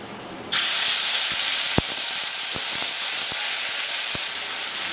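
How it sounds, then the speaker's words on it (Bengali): Cumin and ground spice paste hit hot oil with a sudden loud hiss that settles into a steady, close sizzle, with a few faint taps from the pan underneath. "একটু জিরে বাগান দিই, একটু তেল দিয়ে দেবো, সেই বাটা মশলাটা দিয়ে দেবো।"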